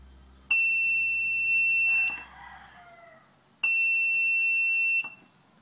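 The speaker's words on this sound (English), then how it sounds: "This is a transistor buzzer circuit." An electronic transistor buzzer circuit with a two-button latch switch sounds twice, each a shrill steady tone lasting over a second, with a short pause and faint rustling between.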